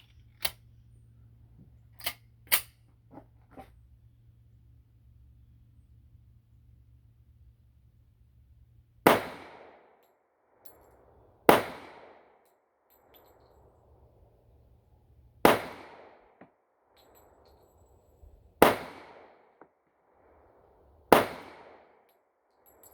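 Five sharp, loud gunshots from a US Model 1911 pistol fired at a close target about ten paces away, spaced a few seconds apart, each with a quick decaying echo, after a few faint clicks of handling.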